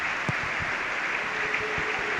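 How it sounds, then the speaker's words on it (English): A football crowd at Reading versus Leeds United applauds steadily from the stands, a continuous distant wash of clapping that holds evenly throughout with no voices on top. "The applause on 19 minutes."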